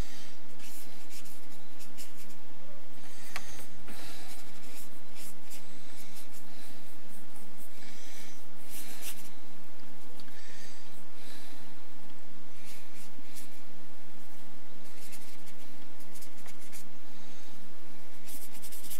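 Colored pencil scratching on paper while a face is drawn, close and steady with repeated short strokes and brief pauses, no talking.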